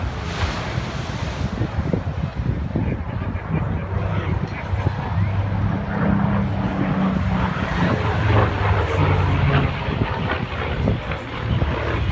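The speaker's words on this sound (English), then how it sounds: "Pulling in front of you now, Phil O'Dell in the Spitfire" A Supermarine Spitfire fighter passes at an air show, heard as a broad roaring rumble mixed with wind buffeting, loud and sustained under an announcer's voice over the public address.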